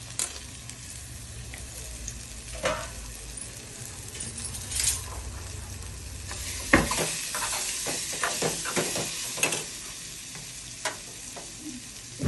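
Raw mango pieces for a sweet-sour pickle are dropped into the pan and stirred with chili powder, giving scattered clinks, scrapes and stirring taps over a soft background, with no voices.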